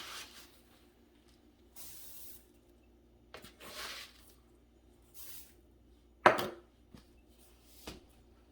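Dry rolled oats poured out for oatmeal butterscotch cookie dough: a few soft, brief rustling bursts spaced apart, with one sharper, louder clatter near the end, close and with no voices.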